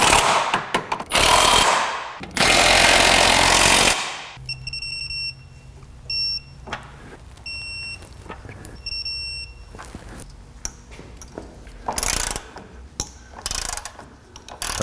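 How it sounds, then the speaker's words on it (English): A Honda Pilot with 200K miles gets its bolts snugged with an impact wrench: two loud, sustained hammering bursts up front, then quieter clicks and beeps, and more short rattling bursts near the end. "I'm going to snug them up with my impact"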